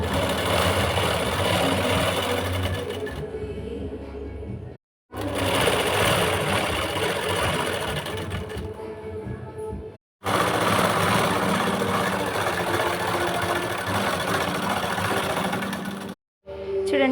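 A sewing machine stitches a fabric border in three long, loud runs of rapid mechanical chatter, each broken by a brief pause, close up with no voices.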